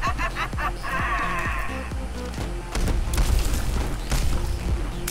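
Deep booming blasts with crackling debris in a video game, several heavy impacts stacking into a louder rumbling burst near the end, with no talking.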